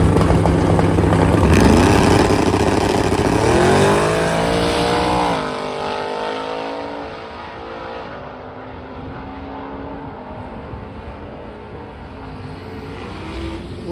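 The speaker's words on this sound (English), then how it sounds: "let's see if a hearse can win a race" A hearse drag races against another car at a race week, with engines roaring loudly at full throttle. The rising revving pitch climbs through gear changes, then fades as the cars pull away into the distance.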